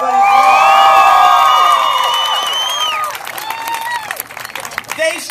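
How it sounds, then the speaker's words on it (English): Loud crowd of students at a school pep assembly clapping, cheering and whooping, with high shouts ringing over steady applause for three seconds before it breaks into scattered claps and calls. "a big round of applause to Miss Barker and her productions team and everybody involved."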